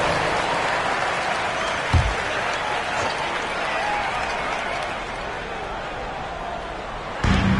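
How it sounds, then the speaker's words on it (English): Steady crowd noise and clapping from an arena basketball video game, with a couple of sharp thuds partway through and near the end. "Give yourself a round of applause."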